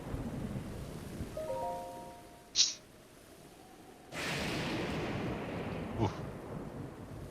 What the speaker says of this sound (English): Just stormy and lightning all over the place.